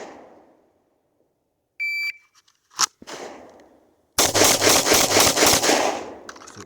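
A shot-timer beep, then a few scattered reports from a Glock 19 pistol at practice, followed by a loud rapid string of about six shots fired in quick succession.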